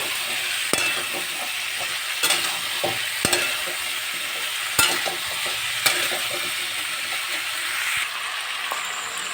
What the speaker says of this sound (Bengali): এই পর্যায়ে আলু দিয়ে ভালো করে আবার কষিয়ে নেবো